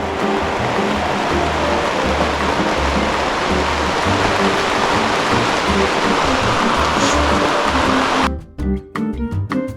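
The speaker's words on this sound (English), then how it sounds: "Well, it rained." Steady rain falls during a wet July camping holiday, a dense, continuous hiss with a low rumbling wash that holds evenly before breaking into choppy bursts near the end.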